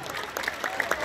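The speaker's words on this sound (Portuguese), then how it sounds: "Uma salva de palmas, gente!" Brief burst of audience applause at a youth sports award ceremony, scattered claps and crowd noise for about a second.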